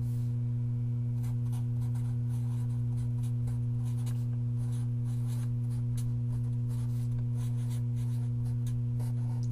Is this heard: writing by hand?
yes